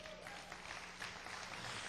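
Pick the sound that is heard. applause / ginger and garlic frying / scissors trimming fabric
applause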